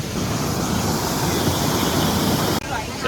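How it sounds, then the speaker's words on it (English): Steady broadband roar of the Dragon and Phoenix Falls in Taoyuan City, Taiwan, pouring down a cliff, loud and continuous with some wind on the microphone and a brief dropout near the end. "You can see the waterfall going down the cliff."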